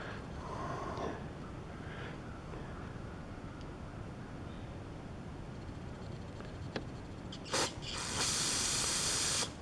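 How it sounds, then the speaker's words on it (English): Carb cleaner is sprayed through a snowblower carburetor jet, with a few faint mechanical clicks before a short, loud hissing blast of aerosol near the end. "I'm going to spray some carb cleaner through that and see if it's clogged or not."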